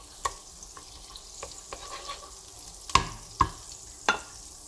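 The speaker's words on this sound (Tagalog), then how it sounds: "Melt ko lang tong butter." Butter melting in a pan for butter prawns with bagoong, a soft quiet sizzle punctuated by a handful of sharp clinks and scrapes from a utensil against the pan, no speech.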